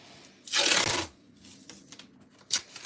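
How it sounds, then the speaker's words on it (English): Cold-pressed 350 GSM watercolour paper is handled and stuck down, with one loud close rustling sweep followed by softer scattered crinkles and a short final swish. "Just getting the paper stuck down."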